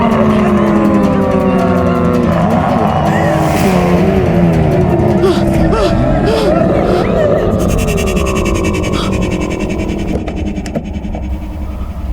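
Car engine revving hard and pulling away, loud and close throughout, with strained voices shouting over the roar before the engine note thins out toward the end.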